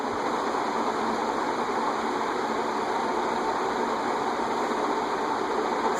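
Leading Edge A-60 60-inch industrial ceiling fan produces a steady, broadband rushing wind noise, constant and fairly loud with no pauses, alongside a faint mechanical hum.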